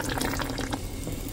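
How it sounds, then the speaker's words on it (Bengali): A little water trickles into a Korean clay pot of chicken cooking. The pour is brief, soft and continuous, heard up close with no voices. "এই যে পানি দিয়ে দিচ্ছি আর একটুখানি"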